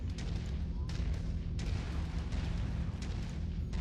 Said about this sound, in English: who cares if I fire off a few dozen rounds of machine guns?